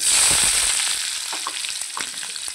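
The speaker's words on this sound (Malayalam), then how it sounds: "അപ്പോൾ ഇതിനകത്തോട്ട് നമുക്ക് കൊച്ചുള്ളി ഇടാം." Shallots tipped into hot oil with popping mustard seeds give a steady, loud close sizzle, easing slightly after the first second, with small crackles and stirring scrapes running throughout.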